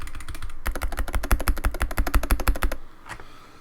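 Clacky mechanical keyboard switches typed in a fast, steady burst of close, crisp keystrokes that stops abruptly near the end, leaving a faint tail.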